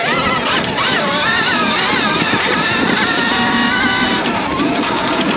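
A SurRon Storm Bee electric dirt bike ridden in eco mode on single track, its motor giving a loud, continuous whine that rises and falls in pitch, mixed with wind and terrain noise.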